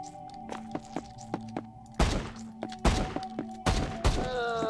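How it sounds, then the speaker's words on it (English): Video game gunfire as a shot blows an enemy's head off inside a house: several sharp, loud thumping blasts in quick succession over a steady electronic hum, with shotgun-like booms toward the end. "shot his head off"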